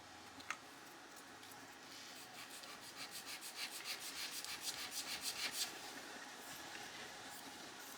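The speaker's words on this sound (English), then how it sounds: "sand a bit off there" Hand sanding on a wooden dressing table: quiet, close, rhythmic rubbing strokes that build in a steady back-and-forth run, then ease off, with no talking.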